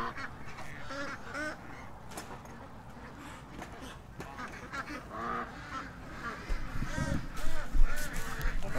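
Ducks being fed make mixed quacking and honking calls, busy and fairly close, rising louder near the end with background voices mixed in.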